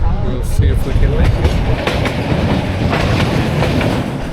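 A train rolls along rails in Vietnam, a loud continuous rumble with rattling carriages and faint rhythmic clatter, heard from close by, probably from on board.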